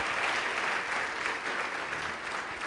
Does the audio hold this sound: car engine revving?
no